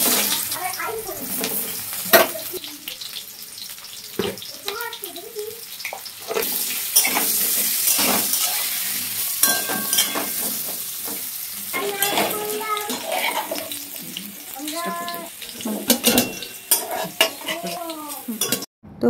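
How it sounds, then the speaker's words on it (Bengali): Potatoes for a meat dish fry in a pan with steady sizzling, broken by frequent stirring scrapes and clinks of a utensil against the pan, with occasional faint voices in the background. "এদিকে আমি মাংসের আলুটা ভেজে নিলাম"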